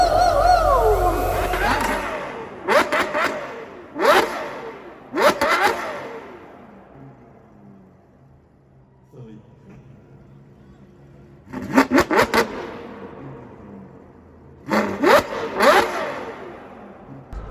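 Car engines rev hard at a car show, with loud sharp bursts of repeated blips and crackles separated by quieter stretches, and a crowd murmuring in the background.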